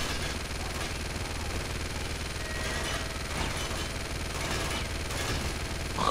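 Sustained machine gun fire from the video game Uncharted 2, a dense continuous rattle of rapid shots with no breaks, heard alone at steady loudness against a busy game soundscape.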